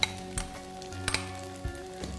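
Vegetables pan-fry in a wok with a steady close sizzle, broken by a few sharp metallic clinks from a utensil against the pan.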